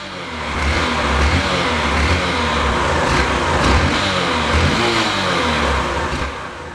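A Honda Fan motorcycle from an auction, with a smoking engine, roars through a new exhaust: a loud, close, steady engine drone with rising revs and throttle swells, with no talking.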